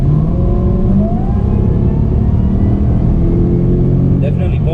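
A supercharged V8 in a 2005 Jaguar fitted with coilovers accelerates hard on a pull. A loud, continuous engine drone climbs gradually in pitch throughout.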